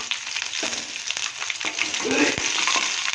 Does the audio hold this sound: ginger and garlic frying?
yes